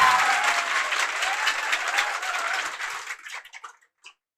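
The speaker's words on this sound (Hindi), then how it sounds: "तो इनके लिए एक बार जोर से ताली होना चाहिए।" An audience claps loudly for the institute's first students to become police sub-inspectors. The applause is thick and close, then thins into a few scattered last claps and fades out after about four seconds.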